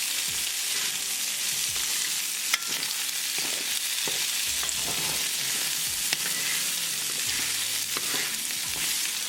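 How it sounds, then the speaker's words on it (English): French beans sautéing in a hot pan with salt and black pepper, a steady sizzle broken by scraping and clattering as the spatula mixes them, close and continuous with no talking. "Mix it well."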